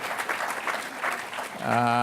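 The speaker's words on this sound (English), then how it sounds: "there's a lot of applause for Bloomberg 2020." Audience applause in a hall during a talk on philanthropy with two speakers: steady clapping mixed with voices, giving way near the end to a sustained tonal sound.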